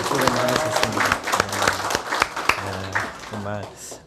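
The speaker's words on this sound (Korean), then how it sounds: "수고하신 분들에게 오늘 우리 박수로 좀 격려했으면 좋겠습니다" A church congregation applauds during a Sunday worship service, a moderate wash of clapping heard beneath a voice speaking over it.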